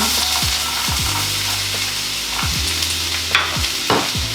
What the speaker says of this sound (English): Just need to cook these down until the onions are pretty golden and the mushrooms are cooked.